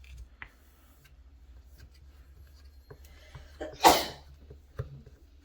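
A single sharp sneeze bursts out near the middle, loud and close, amid a quiet room with faint handling and tapping noises around it.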